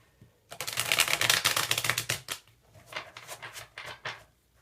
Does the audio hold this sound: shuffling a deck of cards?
yes